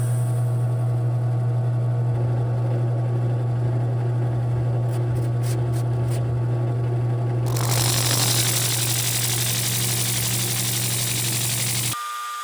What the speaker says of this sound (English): I could throw this into my drill press and with it spinning, use some 80 grit sandpaper to start shaping this penguin